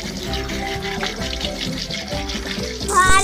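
Vegetables being washed under a running tap, with a steady stream of water splashing and gurgling into a sink, ending in a brief louder splash.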